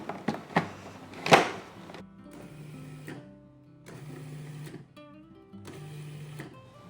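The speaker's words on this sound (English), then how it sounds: "I want to pulse the machine just until the basil and garlic is fairly well chopped." A food processor pulses basil and garlic in three short bursts of motor whir, each about a second long with brief pauses between, after a few clunks of handling up front.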